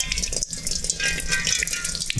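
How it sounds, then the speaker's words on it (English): Water runs and splashes steadily from a tap, a continuous hissing gush with small rattles mixed in. "we're going to turn this tap on and just see what comes out"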